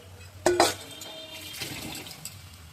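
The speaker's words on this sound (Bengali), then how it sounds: "গরম জলটা ছেড়ে দেবো" Hot water is poured into a pot of boiled cauliflower and fish, starting as a sudden splash and settling into a softer, steady trickle.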